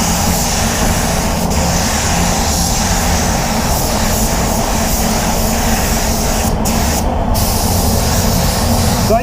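A spray gun set to full fan and full fluid at about 2 bar lays clear coat on a Lexus RX 350, a steady, loud hiss of atomized air running unbroken throughout with no talk.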